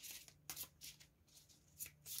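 Oracle cards being shuffled by hand before a draw, a few quick, soft riffling bursts heard close up.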